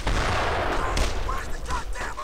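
Gunfire from the World War II shooter Brothers in Arms: Road to Hill 30, a dense, loud, continuous fusillade of overlapping shots crackling steadily with voices mixed in.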